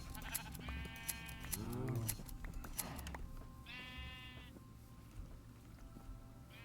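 A Minecraft sheep bleats several times in short wavering calls, some near and clear, over soft in-game background sound and music.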